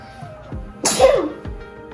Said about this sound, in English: That made me sneeze.